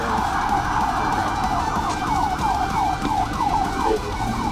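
A police car siren wails loudly during a traffic pursuit, its rapid rising-and-falling yelp repeating steadily over the rumble of a moving vehicle.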